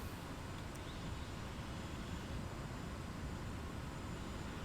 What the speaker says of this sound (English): There you can hear the wind noise of the difference of the wind noise of the flaps now with FS Realistic